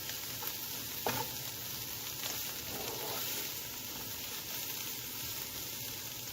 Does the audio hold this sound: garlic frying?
yes